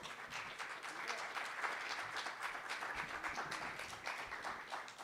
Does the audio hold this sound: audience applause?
yes